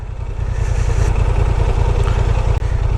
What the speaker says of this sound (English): The bike is going by itself on idle on the first gear